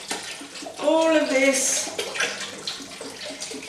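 Oat milk pours in a steady, splashing stream into a slow cooker pot, close and moderately loud, while a person speaks briefly over it.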